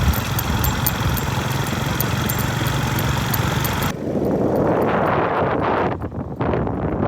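A motorcycle engine runs steadily outdoors for a village ride, with a constant buzzing drone and heavy wind rumble on the microphone. Partway through, the sound shifts to rougher, gustier wind noise with the engine still faintly underneath.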